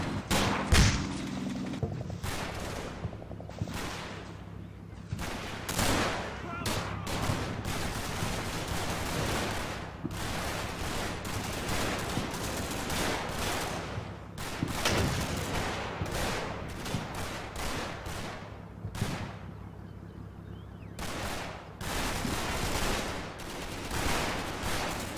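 A .50 caliber machine gun in Combat Mission fires long, steady rattling bursts, sometimes broken by short pauses, over distant battle noise. The gunfire is loud and carries through the whole stretch.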